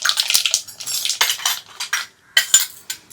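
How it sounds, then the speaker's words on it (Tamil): Mustard seeds hit hot oil in a pan for vatha kulambu, setting off a close, busy run of sharp crackling and popping bursts with brief lulls between them. No one speaks. "இப்போ எண்ணெய் சூடாயிடுச்சு, நம்ம கடுகு போட்டுடலாம்."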